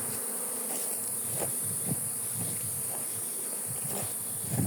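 Bees buzzing around an opened beehive, a dense, continuous close drone with a steady hiss underneath and no talking.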